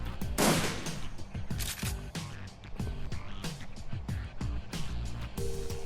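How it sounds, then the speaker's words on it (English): Gunfire from the Shadowrun Returns video game crackles in repeated bursts throughout, with a dense volley near the start and steady shots over game music and effects. "You charge all the way through gunfire to get to Tormund."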